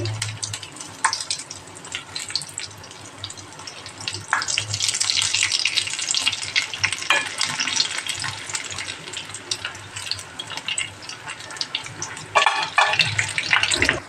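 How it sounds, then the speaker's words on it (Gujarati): Stuffed chilli bhajiya fritters frying in hot oil give a steady, dense hissing sizzle that swells and crackles close by, with a louder bubbling burst near the end. "આપણા અહીંયા મરચાંવાળા ફ્રાય થવા આવ્યા છે"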